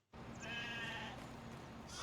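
Baby sheep bleat in Farming Simulator 25, with several high, wavering lamb calls ringing out clearly over a steady farmyard ambience.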